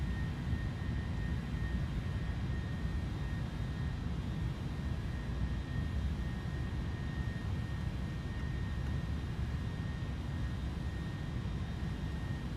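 An Airbus A310 takeoff in a flight simulator game gives a steady, dense jet engine roar with a low rumble and a faint constant whine, unbroken and without talk.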